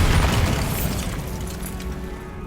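A Bombarda spell detonates in Hogwarts Legacy, a loud, dense blast with a deep rumbling body that fills the whole moment and slowly tapers off without any gap.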